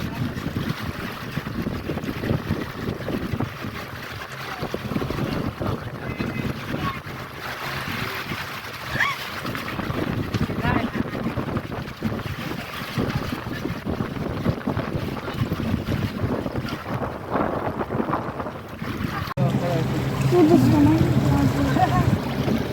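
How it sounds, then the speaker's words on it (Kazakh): A boat moves across a lake at Burabay with a constant rush of water and wind buffeting the microphone, a broad steady noise throughout, with people talking now and then in the background. "Қайықта кетіп жатырмыз"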